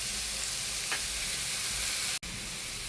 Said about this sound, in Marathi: लसूण मिरचीचा ठेचा मस्त पैशाचा तेलावर टाकला ना सगळं तिखट तेलात उतरतं